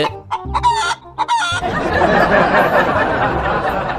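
Chickens cluck and squawk close by in a few short bursts, followed by a dense, noisy flurry of fowl calls and commotion that continues to the end.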